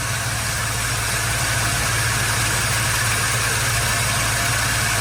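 A car engine idles steadily with a low, even drone throughout, loud and close with no talking over it.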